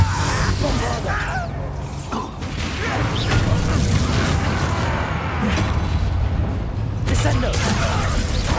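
Spell explosions and impacts from the Bombarda spell in the video game Hogwarts Legacy, heavy booms and crashing bursts recurring through dense combat noise, with voices speaking in between.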